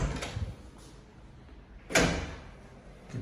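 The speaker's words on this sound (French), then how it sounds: "Une porte" A door in an apartment being opened, giving a sharp knock-like burst near the middle that stands out against a quiet room, with softer handling noises just before and after.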